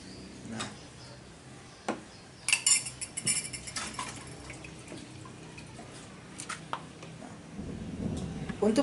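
A spoon clinks against a container while one spoonful of natural plant nutrient is stirred into about five liters of water, giving scattered sharp ticks and taps with faint dripping and a louder rustle near the end.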